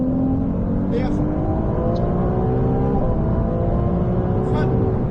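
A race car accelerates hard on a circuit with cones: a loud, steady engine whine that rises in pitch while held at full throttle. A few brief clicks sound over the constant drone.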